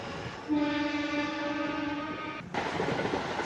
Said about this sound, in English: You not only see Shinkansen trains, you also see the local trains too.